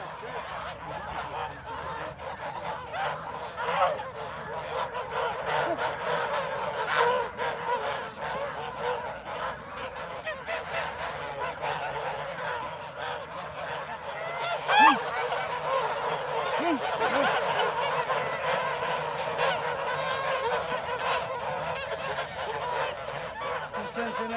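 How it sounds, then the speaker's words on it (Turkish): Native Kars geese honking almost continuously in a flock, a loud, dense, raucous chorus that keeps going throughout, with one sharper honk standing out near the middle. "Kars'ın yerli kazı."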